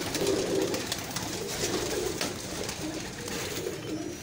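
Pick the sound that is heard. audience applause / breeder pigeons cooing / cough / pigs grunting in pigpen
breeder pigeons cooing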